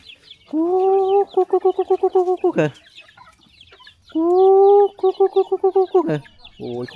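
Chickens at a farm in Laos clucking loudly and close by, with two bursts of rhythmic, stuttering clucks and short squawks, each followed by a pause, and no talk over them.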